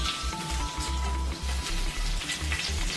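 Bay leaves, whole cardamom and cinnamon sizzle steadily in hot ghee for restaurant-style fried rice: a continuous, fairly loud crackling fry with no voices.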